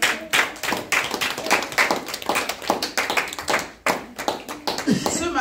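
Members of a church congregation clap together in a steady rhythmic beat, loud and close, as voices call out over the claps.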